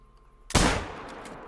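A hunting rifle shot at a springbok in Call of the Wild cracks out as a single loud, close report after a quiet moment, then trails off in a rolling echo across open terrain.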